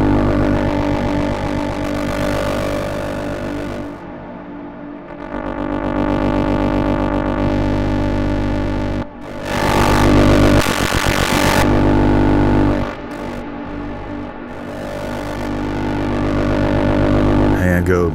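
A synthesizer runs through a Mangle passive Eurorack audio processor at high gain, producing a loud, sustained, buzzy distorted drone whose tone shifts and brightens in several sweeping passes.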